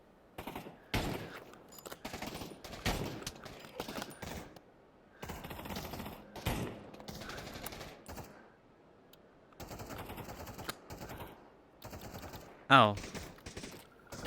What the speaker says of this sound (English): Oh, this is one of the World War II guns.